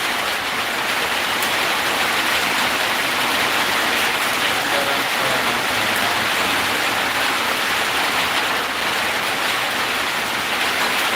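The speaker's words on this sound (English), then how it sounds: "Yeah, raining, guys." Steady rain falls throughout, a dense, even hiss that fills the space without pause or change in loudness, with no clear voices rising above it.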